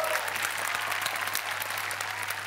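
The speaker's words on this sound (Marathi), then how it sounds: "जोरदार टाळ्या झाल्या पाहिजे गणेश यादव यांच्यासाठी." Sustained studio audience applause for Ganesh Yadav on the stage of a Marathi TV comedy show, a steady dense wash of many hands clapping at even loudness throughout, with no talk over it.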